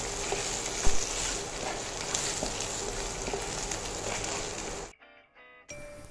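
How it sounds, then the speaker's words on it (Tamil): Small onions (shallots) frying in a pan for a curry leaf chutney make a continuous loud crackling sizzle that cuts out abruptly near the end, then briefly resumes. "அடுத்து சின்ன வெங்காயத்தையும் வறுத்துக்கலாம். வெங்காயம் நல்லா வதங்கட்டும்."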